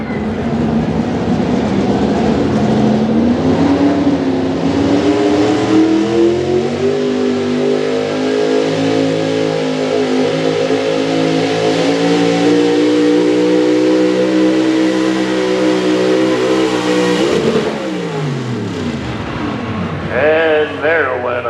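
Big block high-output 4x4 pulling truck engine roars at full throttle for a sustained pull at an outdoor truck pull in Carrollton, Ohio. The engine note climbs steadily, then abruptly drops off near the end.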